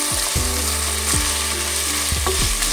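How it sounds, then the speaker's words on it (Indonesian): Chicken meat sautéing in hot oil with cooked spice paste for kimlo soup, a steady loud sizzle broken by repeated scraping stirs of a utensil against the pan, with no speech. "Kita tumis."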